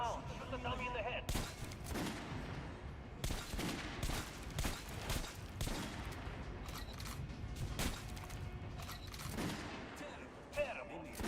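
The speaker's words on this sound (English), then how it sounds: "Shoot the dummy in the head." Gunfire at a shooting-range dummy in Metro Last Light Redux, a run of sharp shots, some in quick bursts, spread through a busy, noisy game mix with talk under it.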